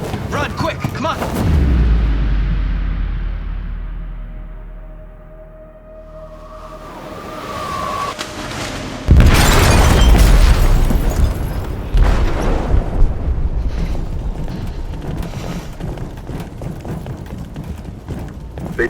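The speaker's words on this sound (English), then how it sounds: "They detonated an explosive in the hold." An explosion in a ship's hold in the video game Detroit: Become Human: rumbling booms and blasts give way to a heavy sudden impact, then continued rumbling and crashing debris, with scattered game voices.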